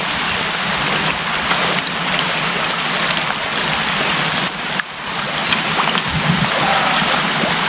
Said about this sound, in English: the rain's coming down a bit now